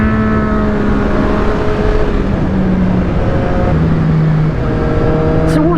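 A motorcycle fitted with a Yoshimura exhaust, ridden on a summer outing, gives a loud, steady engine drone throughout, its pitch sliding and shifting as the throttle changes, with no talking.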